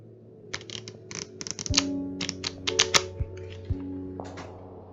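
A deck of playing cards flicking past quickly during a magic trick, a rapid run of crisp papery clicks and riffles in short bursts over a low background hum, fairly close.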